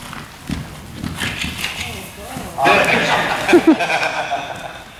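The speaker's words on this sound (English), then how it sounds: "You can trot in." Horse hooves clip-clop at a trot in a riding arena during a jumping clinic, with rhythmic footfalls growing louder and closer toward the end, mixed with background noise.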